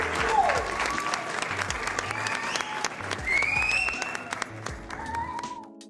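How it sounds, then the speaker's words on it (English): Applause at the close of a live painting stream, a steady patter of clapping hands sustained for several seconds, with music or tonal sounds drifting over it. "I think it deserves a round of applause."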